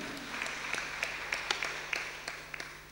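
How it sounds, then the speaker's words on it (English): Church congregation at a Sunday English service clapping, a light scattering of distinct hand claps over a soft wash of applause and a low steady hum. "Let's clap for them."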